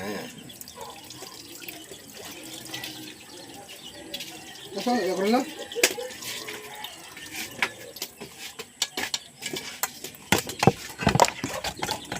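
Water is poured into a pot of cassava cooking in coconut milk: a close, intermittent splashing pour with clatters and knocks from the pot, growing busier toward the end.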